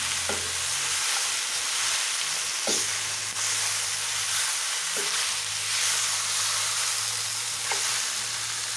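Pre-cooked tikka pieces being briefly fried and stirred in a pan, with a loud, steady sizzle throughout and a few scraping strokes of a spoon spaced a couple of seconds apart, no talk.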